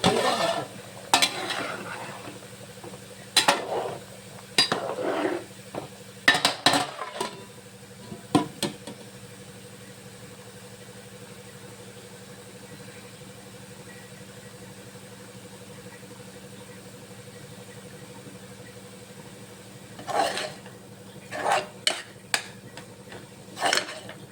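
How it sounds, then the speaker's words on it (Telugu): Food frying on a low flame gives a soft, steady hiss. Clattering bursts of a utensil stirring against the pan come early and again near the end, with a long quiet stretch between them. "ఇది కొంచెం ఫ్రై అవ్వగా అవ్వగా కొంచెం కలర్ మారుతూ వస్తుంది"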